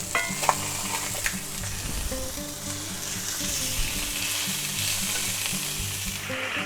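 Old Bay-seasoned salmon fillets sear in a hot pan with a loud, steady, close sizzle and crackle, broken by a few sharp taps near the start while background music plays.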